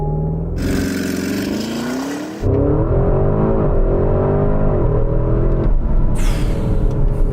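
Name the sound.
Porsche Cayenne Turbo GT SUV launching, accelerating to 60 mph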